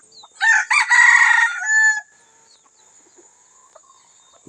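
A wild junglefowl rooster crows once, loud and close, a drawn-out call lasting over a second, followed by quiet with a faint steady high hum.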